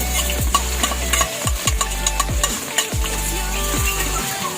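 Sliced onions sizzle in a hot pan for pancit while a utensil scrapes and stirs them in repeated strokes, over a low steady hum from the stove.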